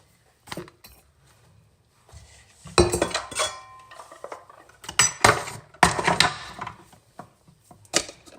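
Spoon clinking against a cup while coffee and milk are stirred, with scattered dish and cutlery knocks; bursts of clatter come in irregular clusters, close and moderately loud, with quiet gaps between.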